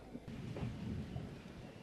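Faint, distant thunder before rain: a low rumbling roll swells and fades over a couple of seconds, soft and far off.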